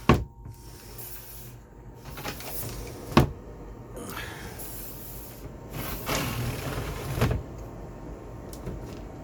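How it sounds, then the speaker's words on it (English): A broken door aboard a boat is shoved and knocked against its frame, giving several sharp thumps and rattles with scraping and creaking between them as it fails to shut. "Okay, see, now I can't close the door."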